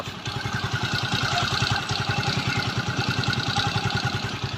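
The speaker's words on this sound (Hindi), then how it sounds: "आपने सुना किस तरीके से इंजन की साउंड है" A rebuilt TVS Victor motorcycle engine runs steadily close by, its rapid, even idle pulses thumping throughout with no voices over it.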